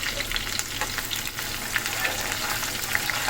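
Onions fry in a pan for a Telugu chapala kura fish curry, giving off a loud, steady sizzle and crackle with scattered pops and a faint stirring scrape, with no voices.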